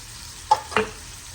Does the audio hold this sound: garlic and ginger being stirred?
yes